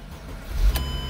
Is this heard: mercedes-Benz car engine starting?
yes